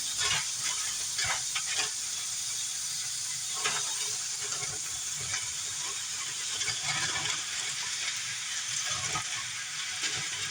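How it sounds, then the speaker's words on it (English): Mushrooms go into a simmering coconut milk chickpea curry, bringing a soft steady sizzle and hiss with light stirring clicks, close and fairly quiet, with no talking. "now we're going to go ahead and add the mushrooms"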